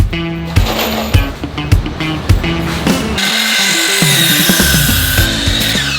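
A power saw cuts wood while a freshwater pond frame goes together, giving a series of short, loud cutting bursts with clattering handling noise between them. The last few seconds carry a sustained, steady whine.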